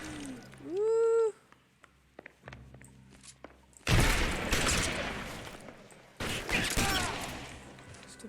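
Shotgun blasts in the detective game LA Noire: two loud, booming bursts a couple of seconds apart, each followed by a rumbling decay, with quieter thuds and footsteps and a rising tonal sound before them.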